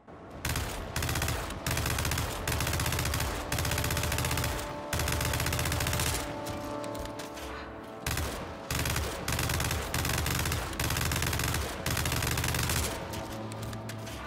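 Relic weapon fire from the video game Gears 5: loud, dense bursts of gunfire in repeated volleys with short pauses between, heavy and close, with no talk.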